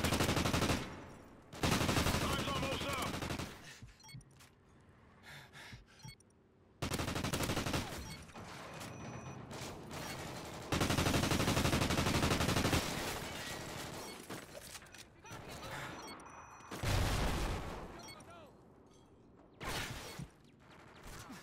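Sustained video game gunfire in a multiplayer objective match, long rattling bursts of automatic shots separated by brief lulls, loud and close with scattered impacts.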